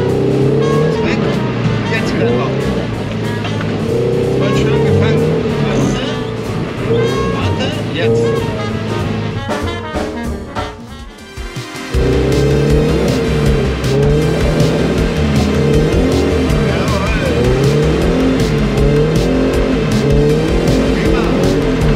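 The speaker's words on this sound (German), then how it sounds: "Das war doch schon mal ein Drift." Car drifting, with hard engine revving and squealing tires in loud sustained bursts, a brief dip in the middle, then the screech and revs return; voices talk over the noise.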